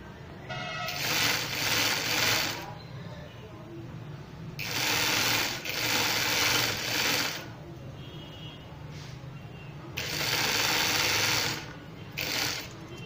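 Sewing machine stitching piping onto a shirt in three long bursts of fast rapid clatter, separated by quieter pauses with faint handling sounds, close and loud.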